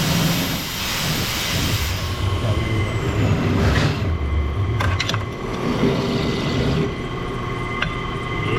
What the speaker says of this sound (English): Just your regular run-of-the-mill countersink bit, back in the basic freaking dude drill press.